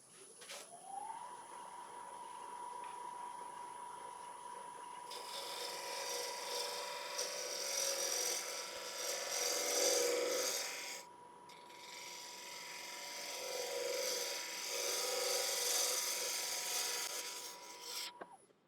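A gouge cuts a punky spalted beech bowl on a wood lathe, giving a steady, quiet rasping hiss over the motor's constant whine. The cut swells and eases in long passes.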